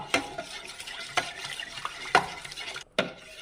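Tender coconut ice cream mixture stirred continuously in a pan, close scraping strokes with several sharp clicks of the spoon against the metal and a faint sizzle underneath, no voices.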